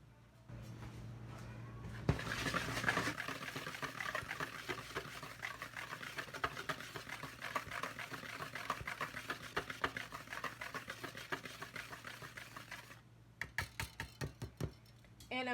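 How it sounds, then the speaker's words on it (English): A wire whisk stirs cake flour in a bowl, a soft, rapid rhythmic scratching and tapping that runs steadily, then stops before a few louder final taps. "I've got 6 2/3 cup of cake flour. I'm going to use a whisk to aerate it."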